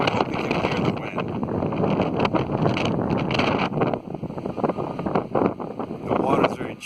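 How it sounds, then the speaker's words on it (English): Wind at Venice Beach buffeting the microphone, a close, rough rumble with gusty bursts and choppy water in the background. "I hope you can hear the wind."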